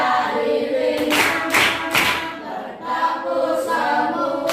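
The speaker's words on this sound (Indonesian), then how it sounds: "tepuk jari dua, tepuk jari tiga, jaga tepuk jari empat, tap, tepuk jari lima" Children in a classroom clap their fingers along to a clapping song, with a few sharp, close claps spaced unevenly over a steady background of voices.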